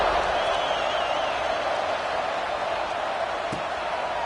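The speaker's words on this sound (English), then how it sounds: "this crowd is buzzing after that last score" A football stadium crowd at a UCLA game buzzes after a touchdown, a dense, steady roar of many voices at moderate loudness with a short thud near the end and no clear single speaker.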